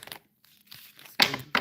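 Tarot cards being shuffled in short papery bursts, a quick riffle, a pause, then two louder crinkly shuffles close up, no talk.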